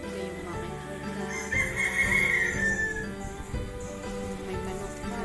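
Chickens and a fighting rooster in a provincial backyard give off clucks and brief calls over a faint outdoor background, with no talking.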